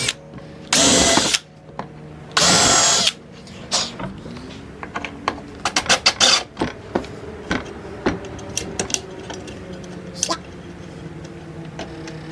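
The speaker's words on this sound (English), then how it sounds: "I'm gonna drill pilot holes to put the screws in" A power drill bores pilot holes for screws in a small wooden shelf, with two loud, sustained bursts of whirring followed by a scatter of short clicks, taps and brief handling noises.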